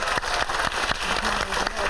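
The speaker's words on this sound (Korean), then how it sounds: "여러분 박수 한번 보내주세요" Studio audience applause on a Korean TV talk show, a brief burst of steady clapping with regular louder claps standing out over a crowd murmur.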